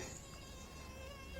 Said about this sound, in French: C'est ton moustique?